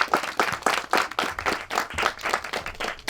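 An audience at a film screening of work by emerging Black filmmakers applauds for the filmmakers in a loud, continuous round of clapping with a steady pulsing rhythm throughout.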